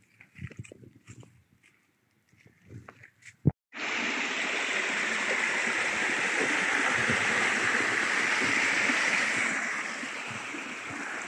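Mountain stream on a Hong Kong hike, water rushing steadily and loudly close by after a sharp click, preceded by brief faint talk.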